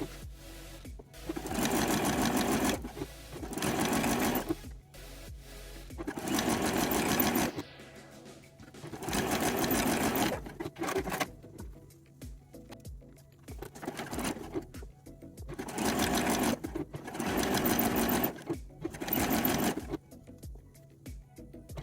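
A sewing machine sews the elastic leg lines of a string-back garment in a series of close, loud bursts separated by short pauses.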